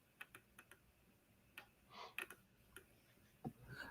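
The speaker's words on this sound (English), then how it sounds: "Oh, I hear typing." Faint keyboard typing in a quiet room, heard as scattered light clicks and a few short bursts of keystrokes with pauses in between, with no talk.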